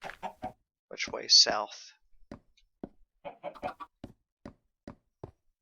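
Minecraft chickens cluck in a few short bursts near the start, then give way to a player talking over sparse game sounds.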